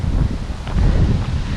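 Strong wind buffets the microphone with a steady low roar and rumbling gusts, loud and continuous throughout with no talking.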